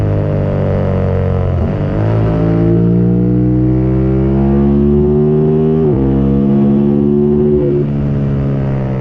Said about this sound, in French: c'est un moteur qui est joueur, qui est présent, qui est rond, qui est dynamique, qui est vif, qui fait une chouette sonorité